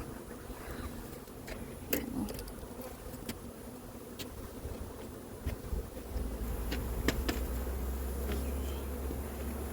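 Honeybees buzz steadily throughout a hive inspection, a dense continuous drone up close with occasional individual bees zipping past, plus a low rumble joining in toward the end.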